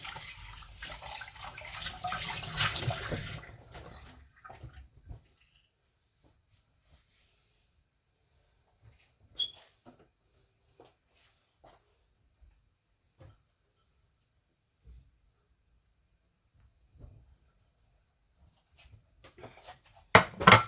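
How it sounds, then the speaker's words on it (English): Running water from a kitchen tap rinses a bowl in a loud, steady gush for about four seconds, then the water stops and only a few faint clinks and small knocks follow in near silence. "give the bowl a little wash."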